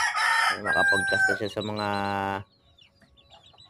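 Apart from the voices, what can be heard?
red junglefowl rooster crowing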